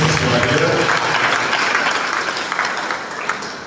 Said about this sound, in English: Please, an applause for yourselves. Clap for yourselves.